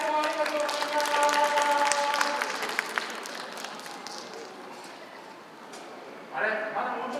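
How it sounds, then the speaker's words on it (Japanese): An audience claps at a police band concert, a dense patter that fades gradually beneath a speaking voice before a brief renewed swell near the end. "大きな拍手もありがとうございます。"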